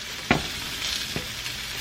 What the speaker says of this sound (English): my rice is boiling now